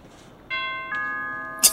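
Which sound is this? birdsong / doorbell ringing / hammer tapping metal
doorbell ringing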